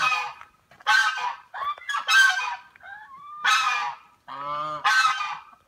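Several geese honk repeatedly at close range at an animal rescue in Akumal, Mexico, loud nasal calls overlapping in an irregular series with short pauses between.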